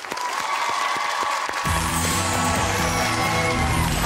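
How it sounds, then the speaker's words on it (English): A television game-show studio audience breaks into sustained applause, loud and dense throughout, swelling as music kicks in partway. "But give him a round of applause anyway."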